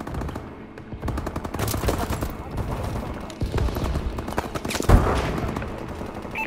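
Rapid bursts of automatic gunfire in the video game Call of Duty: Advanced Warfare, loud and dense throughout with overlapping shots and occasional heavier impacts, under faint in-game voices.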